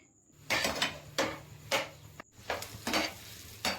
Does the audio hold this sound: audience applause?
no